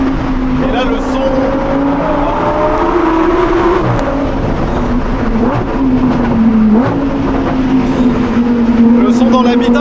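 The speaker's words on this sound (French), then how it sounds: "Le son dans l'habitacle, il est beaucoup plus présent." A Lamborghini Huracan STO V10 heard from inside the cabin drones loudly and steadily, its pitch rising and dipping slightly, with a voice talking over it.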